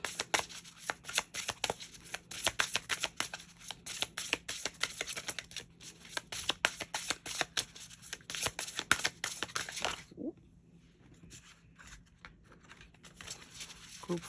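A deck of tarot cards being shuffled, with rapid, crisp riffling flutters repeating steadily for about ten seconds before the sound drops away to quiet, close and clear, with no talk.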